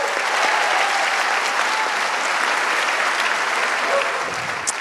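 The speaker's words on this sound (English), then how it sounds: "So give them a round of applause." Festival audience in a high school auditorium applauds student filmmakers, steady dense clapping from a sizable crowd held at even volume for several seconds before easing slightly.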